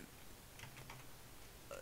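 Typing on a computer keyboard gives a quick run of faint, close key taps over a quiet room background, with no talking.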